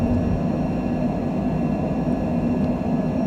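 An airliner climbs out after takeoff from John Wayne Airport in Southern California, a steady loud engine roar with a constant tonal hum heard from inside, with no talk.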